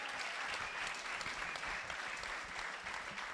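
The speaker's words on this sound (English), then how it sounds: "Congratulations, round of applause." Steady applause from a seated audience at a live press conference for a Gymkhana GRiD event, continuous dense clapping filling the room at an even level without speech.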